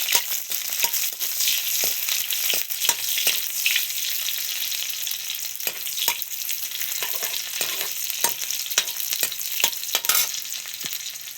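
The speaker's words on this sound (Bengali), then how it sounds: "তেলটা গরম হয়েছে, আমি এখন পেঁয়াজ অল্প দিয়ে দিব।" A little chopped onion frying in hot oil gives a close, steady sizzle broken by repeated sharp crackles and spits throughout, with no speech.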